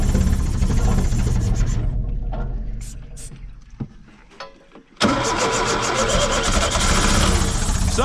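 A 1970 Opel car engine, revived after sitting 41 years, catches and runs, loud and steady with a busy rough texture, after a quieter stretch of sputtering and handling noises near the microphone.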